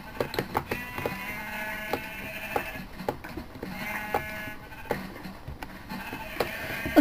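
Sheep bleating in the Minecraft video game while being sheared, short bleats and sharp clicks repeating irregularly, moderately loud and near, with no talk.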